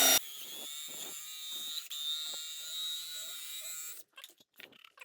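An inside pipe cutter spins inside a shower drain pipe set over concrete, producing a steady, high-pitched motorized whine with faint rattles for about four seconds before stopping abruptly, leaving a few short knocks.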